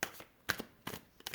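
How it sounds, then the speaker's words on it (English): Deck of playing cards being shuffled during a card reading, soft quick riffling bursts and taps coming in short irregular clusters, quiet and close, with no talk. "So just to let you know, I am shuffling."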